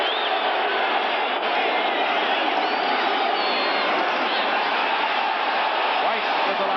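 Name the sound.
football stadium crowd cheering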